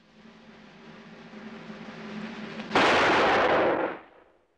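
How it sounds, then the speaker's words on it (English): A single rifle shot fired at a marked target on a ranch, one sharp, loud crack that rings out and decays after a quiet low hum. "I'm gonna put a bullet hole right in the middle of that mark"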